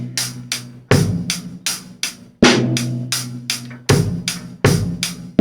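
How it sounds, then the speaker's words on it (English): Drum kit sixteenth-note hi-hat groove with the bass drum on beats one, three and the and of three; steady rapid hi-hat ticks over punchy, close kick hits in a repeating pattern, played alone without talk. "but the bass drum will play the 1, the 3, as well as the and of 3"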